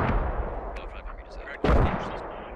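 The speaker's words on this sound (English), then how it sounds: "The mortars are short, and a buddy team, a fire team, almost runs right into them." Mortar shells from the game Squad land short near a fire team, with a rumbling barrage of distant impacts and one sharp, loud blast near the end.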